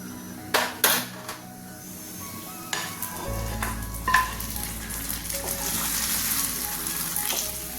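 Coconut pieces fry for rava payasam. The sizzle rises close up after a few clattering knocks of utensil against pan, then settles into a steady hiss with light stirring scrapes.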